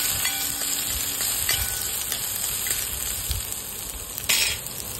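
Onion and chopped chili frying in a pan for Maggi masala fried rice, a steady sizzle with occasional stirring scrapes and a brief clatter of utensils near the end.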